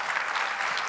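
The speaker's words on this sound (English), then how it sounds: "I like the clap." An audience at a design talk claps in a brief, even burst of applause. It is fairly faint and distant, with no clear voices.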